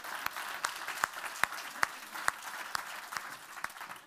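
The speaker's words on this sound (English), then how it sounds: "Let's bring her up with a round of applause." Audience applause at a comedy show, a modest crowd clapping steadily for a few seconds at moderate distance, no voices over it.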